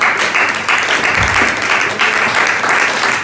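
A church congregation applauds loudly and steadily, a dense wash of clapping filling the whole stretch with no pause.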